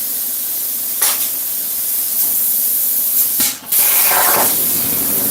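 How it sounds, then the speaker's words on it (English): A sign-making shop's air compressor lets out a steady, loud hiss of escaping air, with a few sharper bursts and one brief dip partway through. "And the air compressor got me again."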